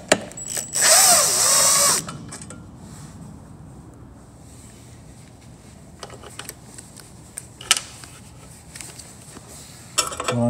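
A power drill whirs in one loud, short burst while driving screws to mount a headlight projector during a Toyota Camry retrofit, followed by quieter clicks and handling noises.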